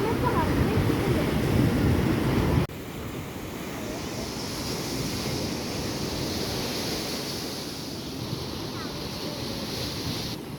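Surf at Valiyaparamba beach rolls as a steady, broad roar, with heavy wind buffeting the microphone and a sudden drop in level just after the start.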